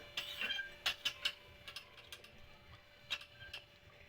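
Gas stove knob clicked and turned to shut off the flame after heating oil for paneer bhurji, giving a few sharp mechanical clicks and ratchet-like ticks, close and fairly quiet.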